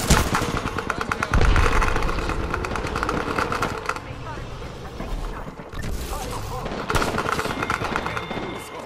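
Rapid bursts of automatic gunfire and single shots crack through a battle royale video game firefight, loud and repeated, mixed with in-game voice callouts and effects.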